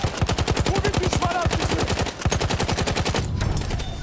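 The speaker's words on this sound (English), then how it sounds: "Two dudes with machine guns just like gunned me down" Rapid machine gun fire rattles in a video game match, dense rhythmic bursts of close, loud shots pounding steadily with a brief gap midway before resuming.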